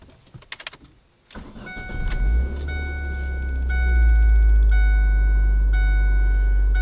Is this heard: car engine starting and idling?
yes